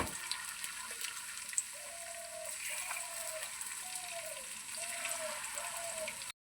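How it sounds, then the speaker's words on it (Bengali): Pointed gourd (potol) chops deep-frying in hot oil, a soft continuous bubbling crackle at low level, steady throughout with a faint repeating whine in the background, no voices. "তেলটা আমার গরম হয়ে গেছে বন্ধুরা। এবার চপটাকে এইভাবে ভেজে নেবো।"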